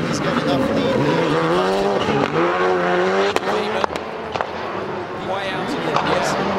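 FIA World Rallycross Supercars race on a gravel surface at the Canada round, engines roaring loudly and continuously with shifting revs, under a commentator's steady talk.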